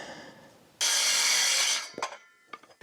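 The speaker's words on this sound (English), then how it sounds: "I need to cut a blocking board that is 22 3/8." A saw cuts through a wooden floor-framing blocking board in a shop, one loud steady burst of about a second, followed by a few knocks and clatters of the wood.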